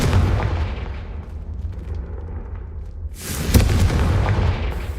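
A Confringo blasting spell explodes in a wizard game, a deep rumbling boom that swells, fades, then erupts again with a second heavy blast and crackling debris.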